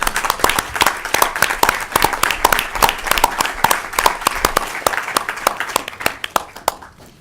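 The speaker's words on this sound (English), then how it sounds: "I think we need to give you a big round of applause" An audience gives a speaker a round of applause at a legislative session, with sharp, distinct claps in a steady, fairly close patter that thins out toward the end.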